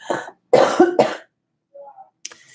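A woman coughs twice in quick succession, loud and close, followed by a softer throat sound and a brief rustle in a quiet room.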